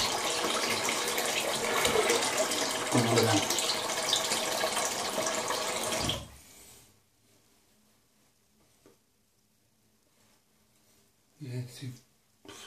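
Cold water gushing steadily from a tap, loud and continuous for about six seconds before cutting off, followed by quiet room sounds, a brief voice and a short splash near the end.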